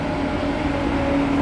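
Interior of a train on the railway line to Matlock Bath: a steady low rumble and hum of the carriage in motion, close and continuous for a brief moment.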